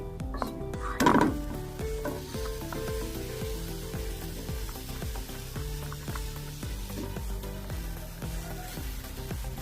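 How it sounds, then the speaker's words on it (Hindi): Chopped onions frying in hot oil for a fish curry, with a pot clattering at the start followed by a steady, close sizzle that runs throughout and no talking. "ऑयल गर्म होता है थोड़ा सा तो इसमें प्याज ऐड कर देंगे"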